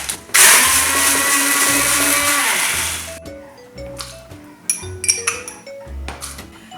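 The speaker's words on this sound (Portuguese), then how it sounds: "com 2 colheres de sopa de sementes de linhaça, vou agora triturar" A kitchen blender grinds two tablespoons of flaxseeds in a loud, close, whirring burst of about three seconds. Sharp clinks and clatter of the jar and utensils follow once the motor cuts off.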